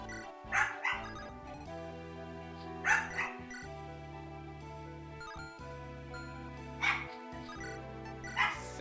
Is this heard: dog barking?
yes